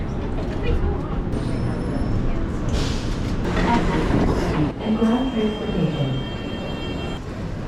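An airport rail train rumbles and clatters past at an airport in Seattle, a busy rolling mechanical noise with squeals, while people talk over it.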